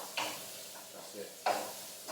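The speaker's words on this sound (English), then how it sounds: "if it's on a high heat and you're trying to stir fry stuff, add the ginger and the garlic after the onions" Onions, ginger and garlic stir-frying over high heat: a couple of quick scraping stirs cut through a faint, steady sizzle in the pan.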